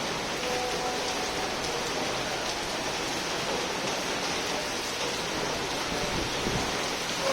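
Steady, dense rain falls continuously in a hometown setting, a close, even hiss with no voices over it.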